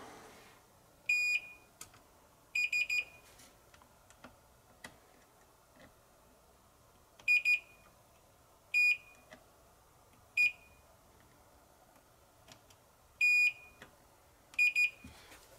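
A multimeter gives short, sharp continuity beeps while checking contacts during repair of a Microscience HH-1060 RLL hard drive: brief bursts, mostly in pairs, spaced irregularly over quiet background.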